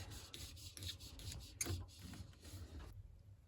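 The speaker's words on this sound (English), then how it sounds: "These hoses should twist off like this." Washing machine hoses from a Bosch WFF1800 are twisted off their fittings, giving close, faint rubbing and rasping scrapes in short bursts before falling quiet.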